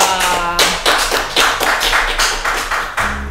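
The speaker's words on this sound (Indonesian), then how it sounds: "Luar biasa, tepuk tangan dulu dong." Loud, close clapping from a small group at an Indonesian talk about Central Maluku regency, coming in distinct sharp bursts that are slightly uneven, with a low hum underneath.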